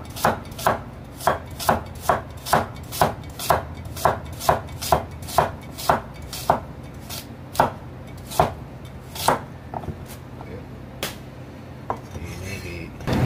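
Carrots are roughly chopped on a cutting board with a knife in a fast, even series of sharp, close thuds that slow and become irregular near the end.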